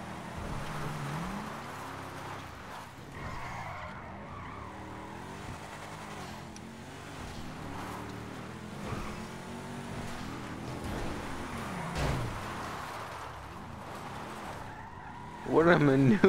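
Tires squeal as a stolen car skids in Grand Theft Auto V, a rough screech over steady engine and game noise that runs the whole stretch, with a sharper, louder burst near the end while people chat.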